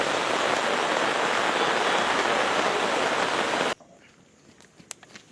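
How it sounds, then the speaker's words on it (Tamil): Heavy rain pours down in a dense, steady roar that cuts off abruptly, leaving a quiet background with a few faint scattered drips and taps. "அடாடாடா பெரிய மழையா வருது"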